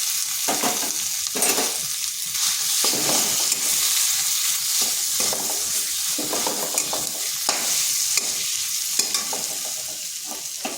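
Mashed boiled potato fries and is stirred with spices in a hot pan, a steady sizzle broken by repeated scraping stirs, close and loud, with no talking.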